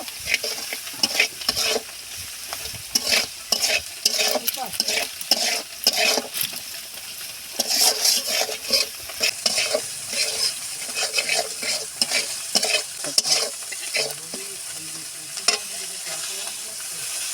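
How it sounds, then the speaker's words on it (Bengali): Spice paste with turmeric and chili powder sautéing in a pan, a continuous sizzle under brisk, repeated stirring and scraping of a spatula against metal, close and busy throughout without speech. "এবার আমি খুব সুন্দর মতো করে মশলাটা কষিয়ে নেব।"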